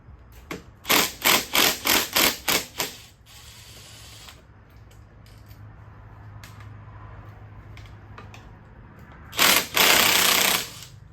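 Allen bolts are loosened with a 5 mm Allen bit on a Kawasaki KDX250 triple clamp, heard as a series of about seven loud rhythmic power-tool bursts, a quiet stretch, then one longer burst.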